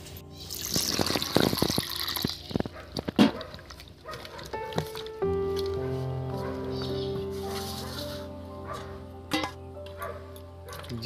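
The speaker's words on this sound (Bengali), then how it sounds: "বন্ধুরা আলুগুলো আমি ধুয়ে নিচ্ছি, আর একবার ধোবো বন্ধুরা। জলটা আমি ফেলে দিয়ে আসি।" Water from washing potatoes is poured out in a home kitchen, a splashing trickle over the first few seconds, while a dog barks and yips nearby and a steady tonal hum continues afterward.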